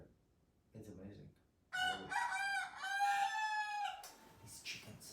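A rooster crows loudly nearby in a long, wavering call, preceded by soft clucking from chickens.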